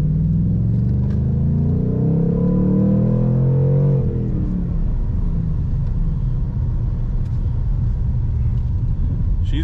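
A 2019 Ford Mustang Bullitt's V8 rumbles loudly from inside the cabin, with engine tones sweeping up and back down as the car rev-matches on its own during a downshift, then settling into a steady deep drone.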